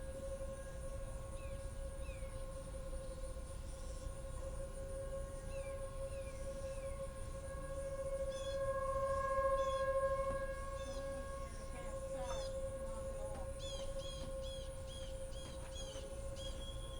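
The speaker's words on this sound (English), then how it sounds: "And that's the 1 minute 228 siren test." A T-128 civil defense siren in Cincinnati, Ohio wails a sustained, steady tone during a test, heard from a distance and swelling slightly in the middle, with faint birdsong chirping in the background.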